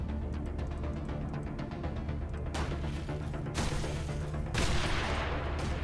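Gunfire in the game Wasteland Remastered crackles as a dense, continuous volley of rapid shots, with heavier bursts swelling in twice over a low background rumble.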